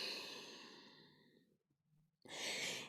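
A single long breath goes out during a yoga forward fold, a soft airy sigh lasting over a second that fades to near silence before a second breath starts.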